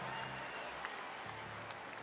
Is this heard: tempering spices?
no